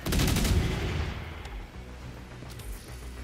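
Gunfire in The Division 2, a rapid burst of loud shots up front that trails off into echoing distant fire and a few scattered later pops.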